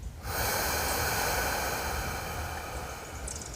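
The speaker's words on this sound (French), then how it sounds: "on va venir souffler doucement par la bouche" A slow, gentle exhalation through the mouth during a chest-breathing relaxation exercise: one steady, close breathy rush that starts abruptly and holds for a few seconds, with no talking.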